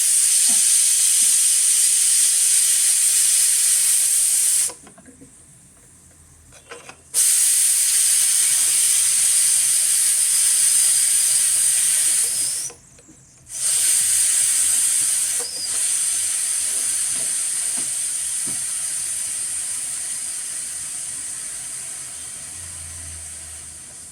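Steam hisses loudly and steadily from a pressure cooker whistle while cooking raddy, broken by two brief pauses, then continuing and slowly fading toward the end.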